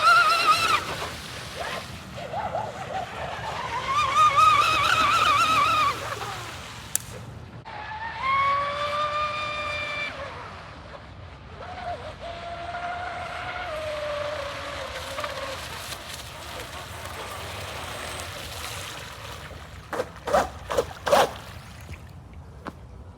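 A small RC boat motor runs at full throttle out on open water, a thin high whine that surges, fades and returns as the boat passes at a distance, with faint splashes and outdoor background noise.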